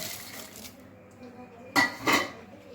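Roasted peanuts tipped into a bowl of homemade namkeen mix with roasted puffed rice, giving two quick rattling, clinking pours close by after a quiet moment.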